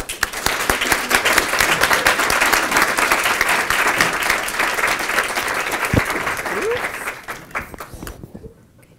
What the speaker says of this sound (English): say thank you for this well-deserved applause